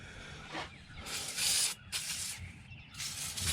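Several bursts of hissing aerosol spray onto transmission cooler lines of a Chevrolet C10 with a 305 engine, close by, in short sprays with brief pauses between, over a low background rumble.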